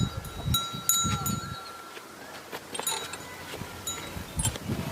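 Livestock yard at a sale of two-toothed sacrificial calves in Gujrat: bells clank and animals shuffle and stir nearby, with intermittent thumps and faint voices in the background.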